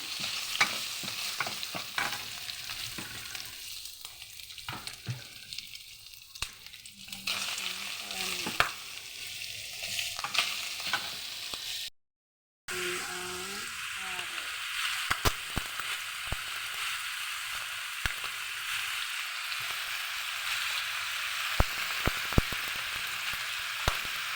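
Garlic and meat fry in a pan with a steady crackling sizzle and frequent clicking spatula taps. One brief drop-out of silence comes midway before the frying resumes, close and even.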